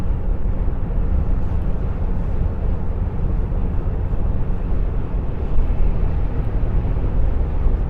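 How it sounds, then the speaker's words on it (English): Steady, loud road and tyre roar from a car cruising at 70 mph on a UK motorway, a continuous low rumble with wind hiss and no breaks. "once you hit a higher speed you get the road noise"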